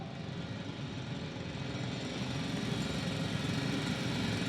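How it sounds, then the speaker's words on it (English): A drill in a video game drones on as a loud, steady low mechanical rumble with a constant buzzing texture, growing slightly stronger over several seconds with no talking. "It's a drill."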